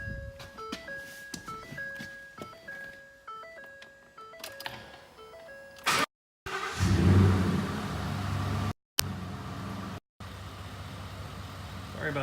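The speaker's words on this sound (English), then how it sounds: "the truck's warm, so don't freak out about the revs" A warm 2014 Ford F150 with a 5.0 V8 and a JLT cold air intake revs after a tonal, jingle-like melody, its rumble swelling close and loud with a few abrupt dropouts.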